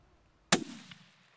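A single sharp .338 Lapua rifle shot fired at a running coyote outdoors, loud and close, with an abrupt crack followed by a fading rumble and echo.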